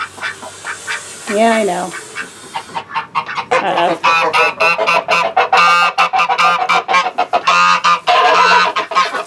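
Cayuga ducks in a backyard garden honk and quack loudly and repeatedly at close range, the calls overlapping with brief talk from a person nearby.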